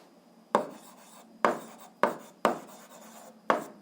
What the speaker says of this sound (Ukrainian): Ну що ж, записуємо відповідь, пишемо відповідь.